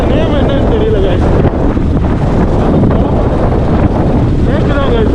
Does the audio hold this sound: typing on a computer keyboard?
no